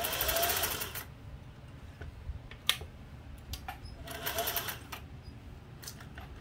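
A Singer 401A sewing machine winds a bobbin with a steady mechanical whir that swells at the start and again midway, broken by a few sharp clicks and taps, close and fairly quiet.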